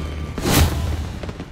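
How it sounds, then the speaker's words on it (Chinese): Fireworks bursting in a city at night: a single deep boom swells and fades into a rolling rumble, with no voices in the clip. "是烟花。"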